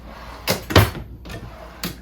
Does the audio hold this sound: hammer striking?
no